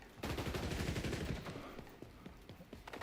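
Pistol gunfire in the shooter game XDefiant, with a burst of rapid shots near the start that thin into scattered single cracks, fairly faint in the mix.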